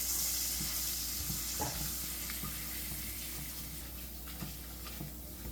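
Coriander powder and masala frying in a pan for chicken curry, a low steady sizzle with occasional soft stirring scrapes, close by and quiet, with no voices.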